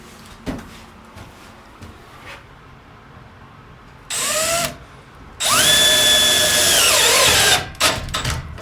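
A power drill drives sheet metal screws into an old shelf build: a few short taps, then two whining bursts that rise in pitch as the motor spins up, the second longer and sustained, ending with clatter.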